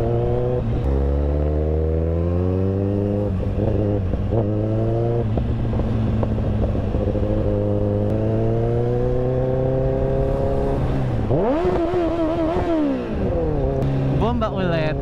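A Kawasaki ZX14R motorcycle engine revving loudly and close at a public roadside, holding a steady rumbling idle, then blipping sharply up and back down near the end.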